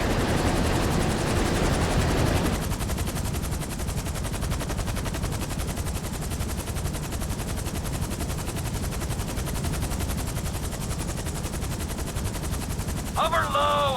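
A helicopter in the video game GTA V hovers low over a submarine, its rotor thudding loud and steady throughout, with game dialogue and faint gunfire-like chatter at the start.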